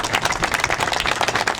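A crowd at a grand welcome reception for Naveen Goyal in Sector-12, Gurugram, claps steadily and close by, with many overlapping hand claps forming a dense, even patter throughout.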